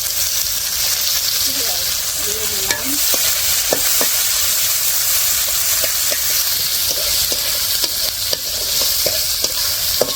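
Onions fry in a pan in a village kitchen with a loud, continuous sizzle and hiss. Scattered clicks and scrapes of stirring run throughout, with no clear talk.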